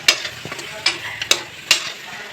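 Masala sizzling in oil in a pan, with a steady frying hiss broken by four sharp spatula scrapes and clacks at irregular intervals.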